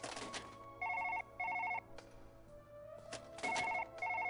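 A telephone ringing, four short bursts of a trilling bell in pairs, clear and moderately close, between soft thumps and clicks.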